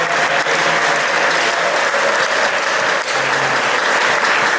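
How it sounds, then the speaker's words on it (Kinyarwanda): Congregation clapping steadily in a church service, a dense, continuous wash of applause from many hands, close and loud throughout. "Reka dushimire Imana tuyikomere amashyi"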